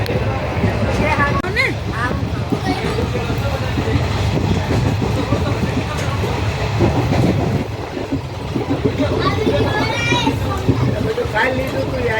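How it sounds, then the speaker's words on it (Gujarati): Rumbling interior of a moving local train with rhythmic rattling, while voices chatter nearby throughout. "જો અમે છે ને બેઠા છીએ લોકલ ટ્રેનમાં"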